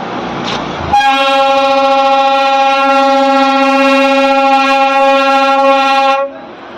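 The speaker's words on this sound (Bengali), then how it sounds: "হরেনটা দিয়েছে, সেটাই তোমরা শোনো" A musical vehicle horn plays its mail-train setting, a loud, steady train-whistle tone for about five seconds, rich in stacked harmonics, starting abruptly after a brief rustle and cutting off cleanly, with no talking.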